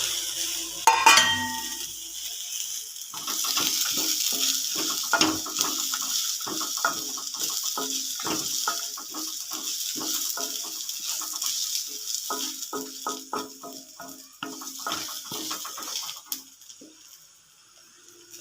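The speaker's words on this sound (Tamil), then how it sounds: "ஸ்டவ்வை கொஞ்சம் ஹை ஃப்ளேமில் வச்சுக்கலாம். ஃப்ரை ஆகட்டும்." Curry leaves frying over a high flame, a steady crackling sizzle broken by quick bursts of spattering and the scrape of a spoon stirring, close by with no talk.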